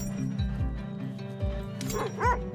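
Sled dogs in the survival game Red Lantern yip, whimper and give short barks at close range, with several overlapping calls over steady game music.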